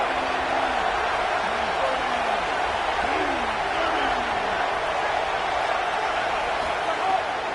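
A USC home crowd at a college football game keeps up a constant broad roar during a third-down defensive stand, with a commentator talking over it.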